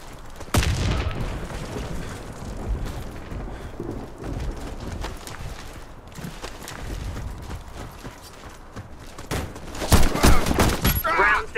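In a Warface clan-war match on the Factory map, a loud grenade explosion booms and is followed by rapid bursts of automatic gunfire. The shots crack repeatedly up close, with a game voice calling out over the din.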